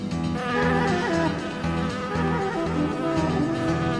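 Bees buzz in a dense, continuous drone during a nighttime hive removal, loud and close with no speech.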